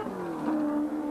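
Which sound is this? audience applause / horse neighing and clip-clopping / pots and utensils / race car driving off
race car driving off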